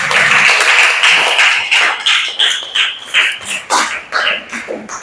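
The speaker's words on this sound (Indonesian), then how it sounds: "Tepuk tangan untuk Darel dulu." Students in a classroom clap for a classmate, a burst of close, uneven hand claps that thins into a slower, rhythmic clapping pattern before fading.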